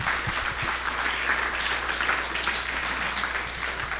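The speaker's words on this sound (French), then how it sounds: "je vous propose déjà d'applaudir cette restitution." An audience at a workshop presentation during a blue-economy forum in French Polynesia applauds, with steady, dense clapping that holds at an even level throughout.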